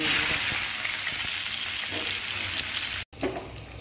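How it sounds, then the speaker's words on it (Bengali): Chopped garlic frying in hot oil as a tempering for drumstick dal, a loud close sizzle that holds steady, then cuts out abruptly and returns quieter with a faint stir. "এখন আমি রসুন দিয়ে দিব, এখানে রসুন কুচি দিয়ে বাগার"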